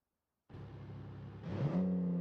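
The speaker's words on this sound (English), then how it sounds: "Listen to the idle noise. The idle noise is beautiful." After a moment of silence, a video game sports car engine starts up with a low rumble that rises into a steady idle hum, close and moderately loud.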